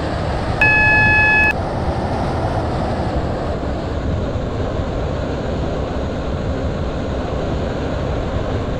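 Class 730 train running in the Roblox SCR video game, giving a steady rumbling rail noise throughout with a short electronic beep tone near the start.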